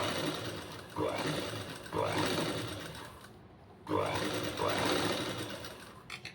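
A computer embroidery sewing machine stitches cloth in rapid runs of about a second each, stopping and starting repeatedly while a voice talks over the whirring.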